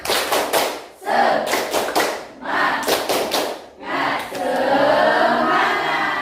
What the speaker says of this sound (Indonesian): Oke, tepuk semangat dulu ya biar tambah semangat